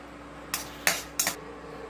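Peanuts roast in a pan as they are stirred, producing three short, bright clattering rattles spaced apart over a quiet, steady background hum.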